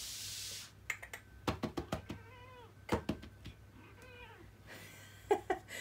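An indoor cat meows repeatedly at close range in short, rising-and-falling calls, with light tapping and clicking sounds scattered between them.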